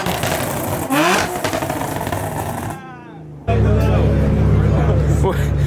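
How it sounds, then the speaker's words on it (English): An Audi at a car meet revs against a two-step launch limiter, producing loud, rapid popping bangs from the exhaust, close by, with people talking over the engine noise. "man's got a gunshot two-step on here"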